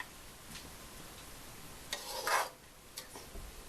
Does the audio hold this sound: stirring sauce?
yes